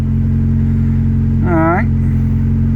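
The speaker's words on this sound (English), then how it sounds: "We're going to start the vehicle." A Honda Accord engine idles with a steady low hum after an oil change, and a voice briefly cuts across the running engine partway through.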